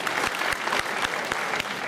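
Lively, dense applause from a film festival audience at a Sunday screening of a science fiction movie in Toronto, a full room clapping steadily with no one speaking.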